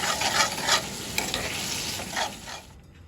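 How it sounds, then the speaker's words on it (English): Flour and fat roux sizzling steadily in a pan while being stirred, a continuous close frying hiss with scraping strokes, fading out at the end. "Now that flour is in the fat, basically the roux,"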